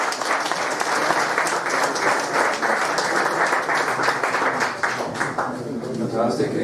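Audience applause after a startup pitch at an accelerator event: a dense, sustained wash of many hands clapping at steady loudness, tapering slightly toward the end.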